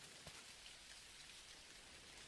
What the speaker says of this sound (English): It's harder to see the fishies with the rain.